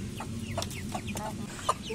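Several quick, close clucks from a chicken, short bursts in an irregular rhythm over a low background hum.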